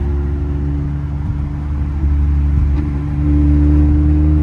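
Catless Toyota Camry cruising at the speed limit on a highway in Mexico, a steady low engine drone with road rumble inside the cabin that swells slightly louder toward the end.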